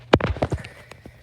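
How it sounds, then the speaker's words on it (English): A horse at an open house moves on hard ground, its hooves giving a few close clip-clop knocks and scuffs that quickly fade into quieter shuffles. "That's a pretty horse."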